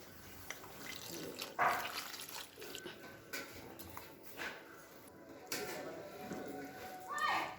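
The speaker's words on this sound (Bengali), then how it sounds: "এখন এর মধ্যে একটু জল দিয়ে আর একটু এটাকে পাতলা করতে হবে" Water trickles and splashes into rice flour batter for winter pitha, with short pouring bursts and mixing sounds close by while someone talks.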